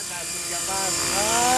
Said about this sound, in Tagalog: flying his electric helicopter, electric Hirobo.